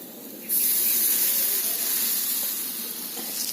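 Rice batter poured into a hot, oiled clay pot for chitoi pitha bursts into a loud, steady hissing sizzle half a second in, then holds fairly evenly, easing slightly toward the end, with no voices.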